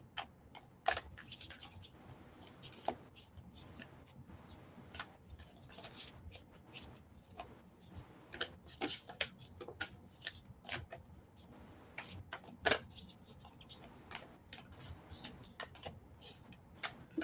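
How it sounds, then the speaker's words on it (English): A slightly sticky deck of cards is shuffled by hand, producing quiet, close, irregular scratchy flicks and soft clicks that come in small bursts. "Okay, I'm gonna do a little shuffle."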